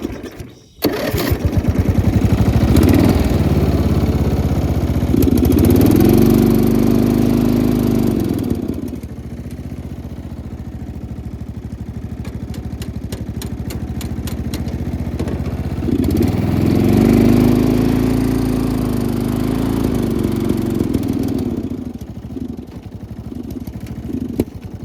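A small snow blower engine runs loudly at close range, surging up in two strong stretches and settling back to a steadier, quieter drone in between.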